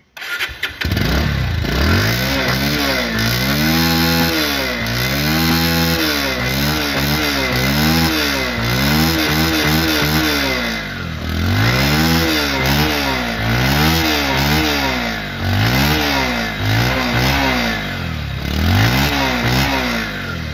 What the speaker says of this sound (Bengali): দেখো বাইকটির সাউন্ড